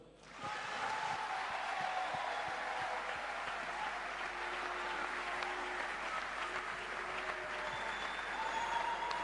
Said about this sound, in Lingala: Président, est-ce qu'on peut bien applaudir pour le président de la République?